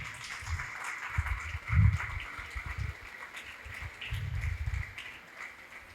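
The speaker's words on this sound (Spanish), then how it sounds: "vamos a darle las gracias a Guillermo con un fuerte aplauso" Audience clapping for Guillermo at the close of a conversation about a documentary on Caño Cristales, a soft, steady patter of many hands that stays faint and distant for about six seconds.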